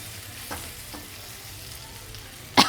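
A tempering of spices sizzles in a pan while cooking mango pickle rice with dal, a soft continuous frying crackle with a few stirring knocks and a sharp louder burst near the end.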